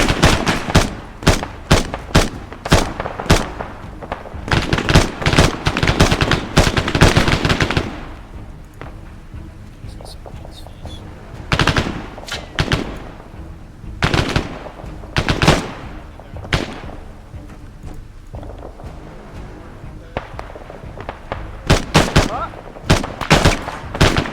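Dense bursts of rapid automatic gunfire from friendly and enemy AI soldiers fighting at close quarters in a military shooter game, with repeated volleys separated by brief lulls and scattered single shots.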